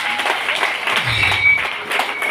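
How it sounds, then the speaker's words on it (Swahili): A church congregation applauds continuously, a dense wash of many hands clapping at once, fairly loud and steady throughout. "Piga makofi kama unanielewa"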